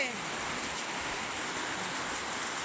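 Heavy rain pours down during the Songkran festival in Isan, Thailand, a loud, steady, dense roar of falling water that continues without a break.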